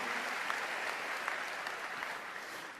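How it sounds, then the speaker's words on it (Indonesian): Dense, sustained applause from a large church congregation during a sermon, steady and enthusiastic throughout. "Berikan tepuk tangan yang meriah buat Tuhan"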